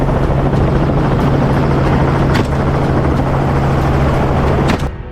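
A helicopter roars steadily close by, its rotor thumping in a continuous drone that cuts off abruptly near the end, as it flies low over dense cover flushing wild pigs in South Africa.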